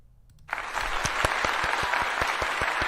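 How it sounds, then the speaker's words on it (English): A live audience at a Formula E end-of-season quiz breaks into applause after a brief pause, with dense, steady clapping and a few louder individual claps standing out near the listener. "I feel like you need a round of applause"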